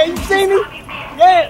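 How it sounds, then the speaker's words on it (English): A Rottweiler gives a couple of short whining, yipping vocalizations, close and fairly loud, with people talking over and between them. "I got rid of that little mutt and got this Rottweiler"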